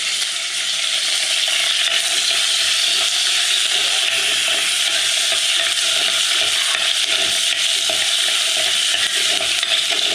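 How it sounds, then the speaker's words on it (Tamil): Fenugreek seeds and curry leaves fry in hot oil with a loud, continuous crackling sizzle that holds steady and close throughout, with no talk over it. "வெந்தயம் போட்டு வதக்கிட்டு கருவேப்பிலையும் போட்டுவிடுவோம்"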